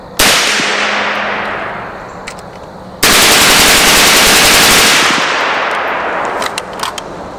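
An M-2 carbine fires on full automatic in two loud bursts, each a sharp crackling rattle of rapid shots followed by ringing echo that decays before the next burst.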